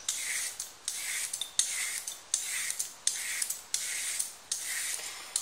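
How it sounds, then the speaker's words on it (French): Carrots being peeled with a peeler for a Moroccan lamb and vegetable couscous, heard as a steady series of about eight rhythmic rasping scrapes, close and clear, with no talking. "Je vais commencer par nettoyer les carottes. Alors je les épluche."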